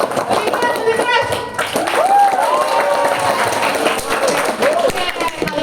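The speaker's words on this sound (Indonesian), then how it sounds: "Yang mau main games tepuk tangan dulu dong." Students at SMKN 1 Kota Sukabumi clap together in a school hall, a busy patter of hands running under loud, overlapping voices and chatter from the crowd for the whole stretch.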